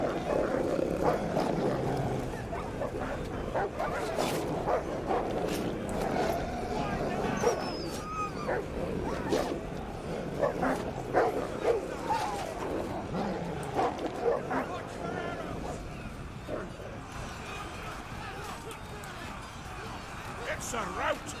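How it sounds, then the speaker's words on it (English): War hounds sent against Roman legionaries in a Total War: Thrones of Britannia battle bark and yelp amid a dense, roaring din of fighting troops, continuous and loud throughout, with a commentator's voice audible over the battle. "they've decided to send in some warhounds to try and stop the Romans"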